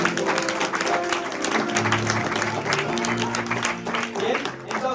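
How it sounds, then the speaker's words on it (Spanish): Applause from a seminar audience, dense and steady clapping filling the room for several seconds with talk mixed in. "Un aplauso por ustedes."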